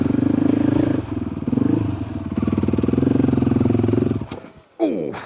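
An off-road motorcycle engine on a trail chugs with a loud, rapid, throbbing idle, then sputters and cuts out, followed by brief clatter and a short rising whine at the end.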